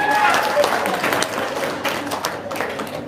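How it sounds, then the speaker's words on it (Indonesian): Short burst of audience applause during a religious lecture, scattered clapping that fades quickly under a faint voice, in a hall with a moderate crowd. "Tepuk tangan dong"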